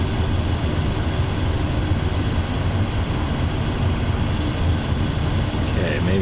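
Propeller aircraft engine running at takeoff power in Microsoft Flight Simulator 2024, a loud, steady broadband roar held close throughout with little variation.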